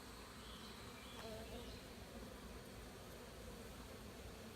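Honeybees buzz steadily inside an opened beehive during an inspection of comb frames, a soft, continuous hum with no one speaking.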